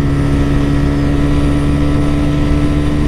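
A TVS Raider 125 motorcycle engine accelerating hard through the gears during a top-speed run, a loud steady buzzing drone with a constant pitch over heavy wind rush, no talk.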